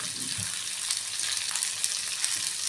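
Cashews and vegetables fry in oil for a kaju curry, a steady, close, crackling sizzle that continues evenly with no pauses.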